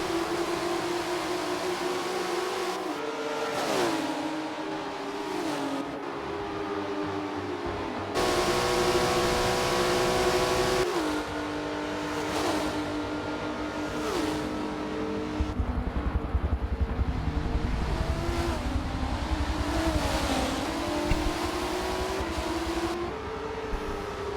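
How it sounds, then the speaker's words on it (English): Race cars in a racing video game at Road Atlanta, with continuous loud engine whine that rises and falls through gear shifts as several cars race close together. "So Scottson, Supra, duking it out for second"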